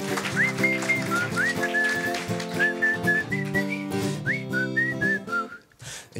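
A person whistles a bright, wavering melody over steady background music, the notes sliding up and down in short phrases.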